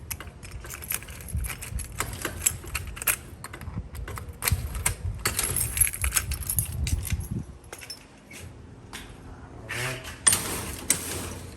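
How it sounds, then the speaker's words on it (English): A bunch of keys jangles and clicks against a lock while someone tries to open the door of a concrete block house, sharp metallic rattles in bursts with quiet pauses between. "There's so many keys on here, I don't know which key it is."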